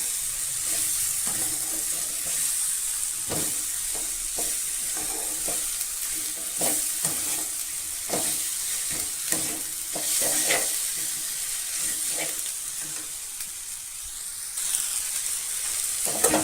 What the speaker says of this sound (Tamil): இதையும் சேர்த்து நல்லா கலந்து விட்டுக்கலாம்